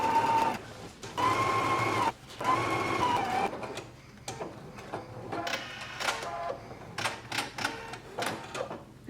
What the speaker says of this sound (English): So now let's go to our machine, and then we are going to stitch along the stitching line all the way around the pocket.